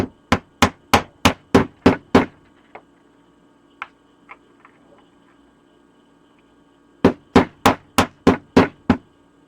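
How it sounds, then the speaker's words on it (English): A hammer tapping a 3D printed Springtrap arm piece into place, two bursts of about eight quick, evenly spaced, sharp knocks each, separated by a quiet pause with a few faint clicks. "so I'm going to do the same thing and hit the hammer"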